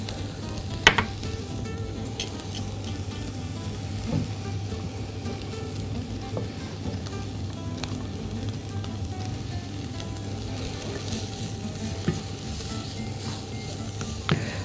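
Garlic and onion fry in a pan with a steady, soft sizzle and occasional faint clicks of stirring, continuous throughout and without talk.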